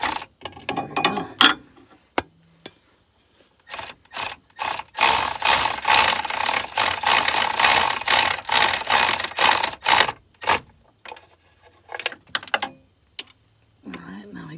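A ratchet wrench tightens a 10mm intake manifold bolt on an R56 Mini Cooper S with the N14 engine, giving bursts of rapid clicking with short pauses between strokes, close and loud.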